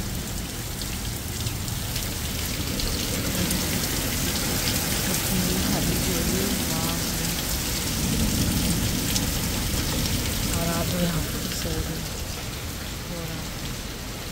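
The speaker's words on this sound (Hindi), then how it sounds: "देखो कितना बारिश हो रहा है," Heavy rain pours down at night in a steady dense roar of drops on surfaces. It stays loud and unbroken throughout, with faint voices murmuring beneath it.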